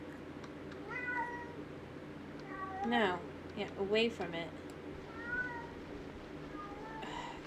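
A house cat meows repeatedly indoors, several drawn-out, wavering calls at moderate distance, while a person talks quietly in between over a low room hum.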